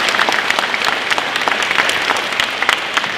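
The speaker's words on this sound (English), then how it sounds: "So big round of applause for them." An audience in a gym applauds at a 2023 event, giving loud, continuous, dense clapping from many hands with scattered sharper claps throughout.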